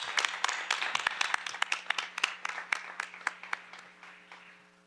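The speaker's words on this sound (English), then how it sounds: "let's just give the young people another round of applause." Scattered applause from a small audience at a school board meeting, a thinning patter of individual claps with distinct sharp hits that fade toward the end.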